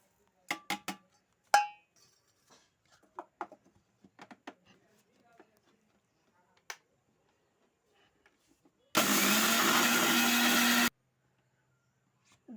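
A kitchen mixer grinder grinds still-warm sago into powder in one loud, continuous whirring burst of about two seconds, following a scattering of sparse clinks and taps from handling the jar amid mostly quiet surroundings.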